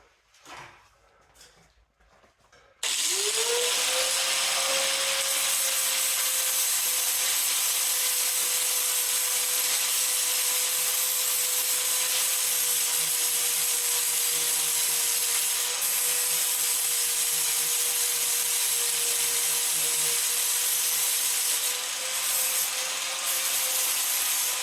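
Angle grinder with a flap disc cleaning up metal, a loud steady grinding whine that starts abruptly after a few seconds of quieter handling noise and runs on continuously, close and unbroken.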